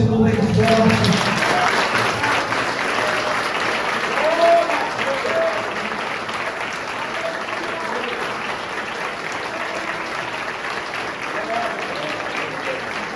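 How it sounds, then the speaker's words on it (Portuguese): Church congregation at a consecration service clapping loudly in praise, a dense continuous wave of applause that follows a brief voice at the start and carries on steadily. "Aplauda o Senhor bem forte"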